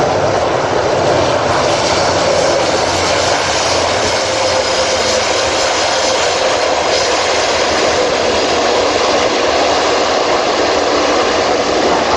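An Airbus A400M Atlas military transport roars loudly and continuously as it touches down at Farnborough Airshow, its turboprop engines giving a broad, unbroken rumble with no voices heard.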